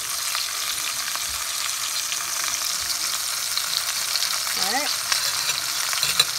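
Beef short ribs frying in a pan on a stove top, a loud steady sizzle and crackle close by, with a brief stir and a short spoken remark over it.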